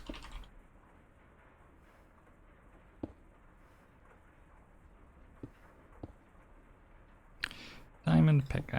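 Someone types on a computer keyboard while playing modded Minecraft, producing faint, sparse key clicks over a quiet room, with a voice and louder handling noise near the end.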